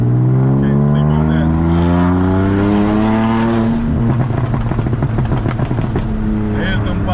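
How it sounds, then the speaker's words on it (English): Loud, close engine of a tuned car revs up in rising sweeps, then drops into a rapid string of crackling exhaust pops and bangs that continue to the end, with a person talking over it. "There's them pops and bangs."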